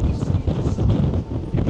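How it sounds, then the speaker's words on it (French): Strong wind buffeting the microphone at the bow of a boat passing icebergs in Antarctica, a loud, steady, low roar without speech. "Le vent s'est levé"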